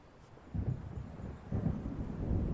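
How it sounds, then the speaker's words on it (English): Low rolling thunder from an approaching storm in the horror game Alan Wake, swelling in two deep rumbles that grow louder and linger, with a faint windy hiss above. "It seems there's a storm coming."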